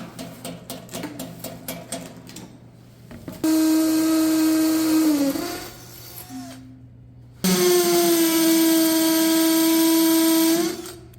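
A hammer drill drills into block, whining in two long, loud high-pitched bursts, preceded by rapid rattling hammering impacts, with a brief lower idle between runs.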